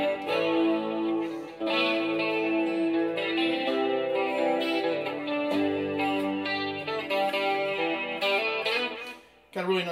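Clean electric guitar tone played through a Headrush MX5 effects pedal, with sustained chords ringing out steadily across the whole passage and a brief dip near the end.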